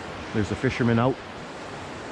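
Rapids on the Mackenzie River near a railway bridge give a steady, hissing rush of water. A voice speaks briefly over it.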